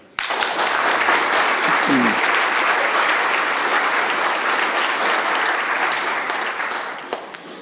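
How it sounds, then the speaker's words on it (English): Sustained applause fills the BC Legislative Assembly chamber as members welcome visiting students, a dense even wash of clapping that holds steady for several seconds before tapering off slightly at the end. "Let's all give them a big round of applause and warmly welcome them to the BC Legislative Assembly."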